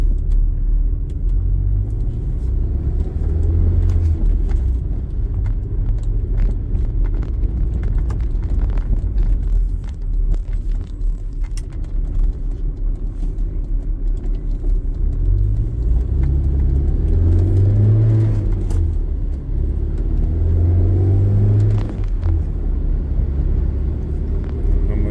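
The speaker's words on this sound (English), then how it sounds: "You can hear the buzzing is the CISE mixture valve." A 1980 Porsche 924 engine idles with a steady low rumble, a faint buzzing whine from the CIS mixture valve on top, and occasional mechanical clatter; no talking.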